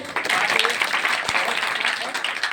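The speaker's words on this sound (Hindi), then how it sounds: "इनका बहुत बहुत उत्साहवर्धन आप करिए, ताली बजाइए" Dense, steady applause from a crowd, fairly loud and continuous throughout the few seconds.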